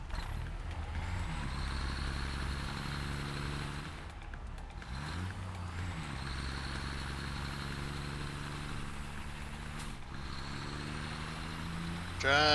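A truck in the video game Satisfactory droning steadily, its engine tone stepping up and down as it drives, with a brief hiss-like break midway and no clear talking.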